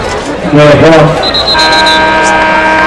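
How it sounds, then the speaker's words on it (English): A steady electronic end-of-quarter buzzer tone sounds at a college football game over crowd noise and a voice talking in the background, holding on for a couple of seconds. "the first quarter is now over as the buzzer sounds"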